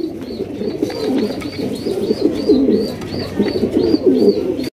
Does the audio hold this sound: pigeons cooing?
yes